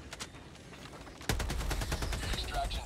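Shotgun fire in the video game Helldivers 2 erupts suddenly after a quiet stretch and continues as a loud, rapid run of blasts with heavy low-end thump.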